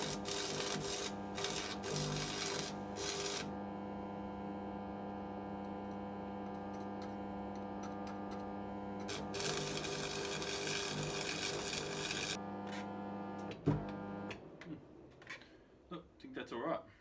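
Stick welding on a homemade forge: a steady, loud crackling arc burns continuously for several seconds, stops briefly, then resumes before a few sharp knocks and clatters at the end.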